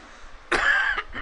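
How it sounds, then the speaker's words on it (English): A single sharp cough up close, brief and harsh, followed by a softer catch of breath. "Excuse me, coughing."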